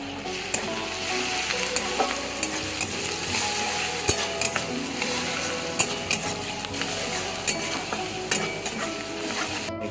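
Cumin and coriander powder cook together in a pan for a Bengali-style chicken curry, a continuous close sizzle with frequent metallic scrapes and clicks of a spoon stirring against the pan, no voices.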